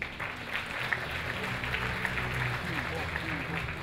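An audience at a Bulgarian fashion awards gala gives steady applause for the coffee sponsor Kimbo. The clapping is even and continuous across a large hall.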